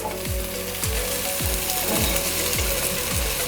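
Okra frying in a hot pan with toasted spices, a steady loud sizzle with a repeating rhythmic clatter of stirring or pan movement, no voices.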